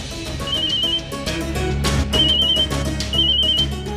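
A repeating electronic ringtone chirps in three short bursts over a steady background hum and music, fairly close and clear.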